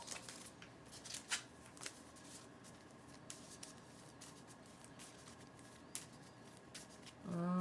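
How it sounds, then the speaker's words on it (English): A deck of cards from a Cthulhu Death May Die board game session is reshuffled close by: soft riffling and sliding patter, with a couple of sharper snaps, at a quiet level and with no talk. "And then reshuffle."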